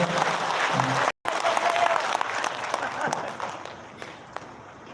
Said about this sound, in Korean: 격려의 박수 한번 주세요